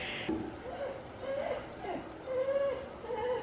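A cat whines in a series of short, high, wavering cries, fairly close, with a few brief pauses between them.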